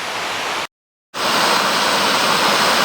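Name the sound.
Alpine Falls waterfall on the Loyalsock Trail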